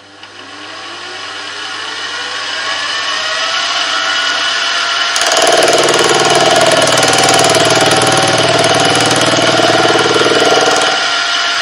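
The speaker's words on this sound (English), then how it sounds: "now we can start cutting our gear. I run at 1200 RPM and feed in as fast as I can" A milling machine running at 1200 RPM while its gear cutter feeds into a blank to cut a helical gear; a steady motor whine swells, then the loud, continuous grinding cut of the tool into metal takes over and holds.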